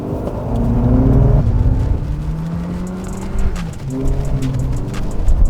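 A stock 2025 Toyota 4Runner drives off-road and approaches a large jump, its engine droning loud and close with shifting pitch and rising and falling revs, no voices.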